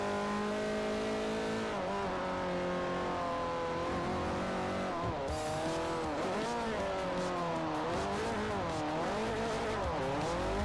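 A race car in Forza Motorsport 4, driven with traction control off, revs and downshifts, its engine note rising and falling in sharp sweeps with some tire squeal, loud and continuous.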